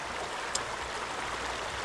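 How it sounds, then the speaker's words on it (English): A creek flows steadily throughout, a continuous broadband rush of running water close by with one brief sharp tick partway through and no talking. "I don't know what it is about flowing water, but I love it."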